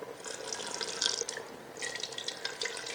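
Water streams steadily into a cooking pot of meatless potato qorma, a thin continuous splashing pour with small drip-like accents, fairly faint and with no talk over it.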